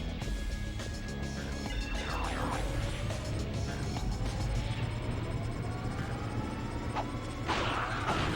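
Wrench melee combo strikes in the video game Ratchet: Deadlocked, rapid whooshing swings and thwacks over a dense layer of game music and effects, repeating without pause.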